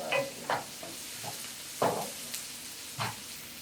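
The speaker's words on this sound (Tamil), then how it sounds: "இதையெல்லாம் சேர்த்து ஒரு வதக்கலாம்" Onions, green chilies, dried red chilies and curry leaves sautéing in a pan for spicy mutton chukka, with spatula strokes at about five irregular moments over a steady soft frying hiss, close and moderately quiet, no talk.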